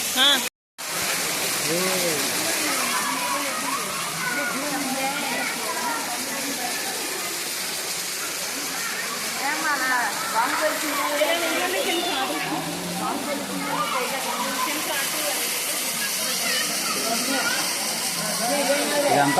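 Water pours forcefully down from the hills through a rock arch at Akasha Ganga in Tirumala, a loud, steady rushing roar that continues throughout while a person talks over it.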